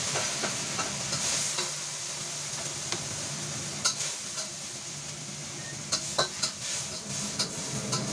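Tomatoes going into a hot, sizzling pan for a Filipino home-cooked dish, with a steady frying hiss and a utensil scraping and clinking against the pan in irregular taps, heard close with no talking.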